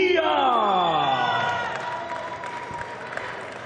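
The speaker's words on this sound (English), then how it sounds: "Everybody's cheering for you." At a boxer's public workout, a crowd cheers and applauds, loud at first with a voice talking over it, then fading into a lower murmur of clapping.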